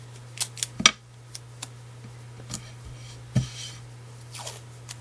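Scissors cut card for a Christmas card in a few sharp, separate snips and clicks, close and quiet over a steady low electrical hum.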